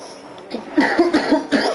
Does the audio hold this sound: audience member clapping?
no